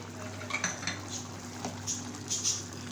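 A spoon scrapes and clinks against a pot as chickpea curry with garam masala and chopped coriander is mixed, giving a few close metallic knocks over a low steady background hum, with no talking.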